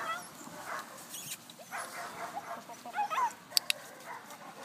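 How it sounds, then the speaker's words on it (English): German Shepherd or Giant Schnauzer puppies whimper and yip softly in scattered bursts, with a couple of sharp high yelps near the end, fairly faint and close. "So we have Kobe Getta puppies and another litter of puppies from Kobe"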